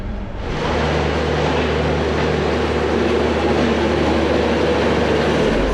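Vivek Express passenger train at a station on the Dibrugarh–Kanyakumari route, a loud, steady low rumble of the train and engine hum that fills the whole stretch, with no voices.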